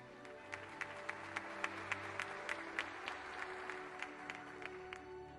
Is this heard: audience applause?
yes